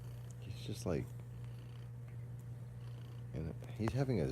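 A cat purrs in a low, steady hum throughout, close by, while someone talks over it in short bursts.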